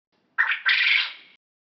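A quail gives a close, loud two-part call: a brief harsh note, then a longer raspy squawk that fades out, alone in silence.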